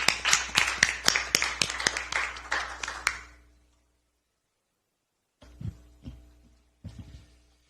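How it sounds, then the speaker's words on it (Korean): Scattered applause at a political party welcoming ceremony for a new recruit, a dozen or so distinct claps in a quick irregular rhythm that stop, then a few soft thuds after a pause. "이용우 인재 환영의 박수 부탁드립니다"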